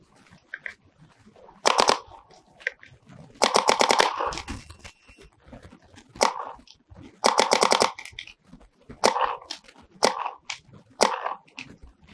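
A paintball marker fires Frostbite paintballs in rapid bursts of sharp, snapping shots, with about seven loud strings of fire separated by short pauses, close and clear.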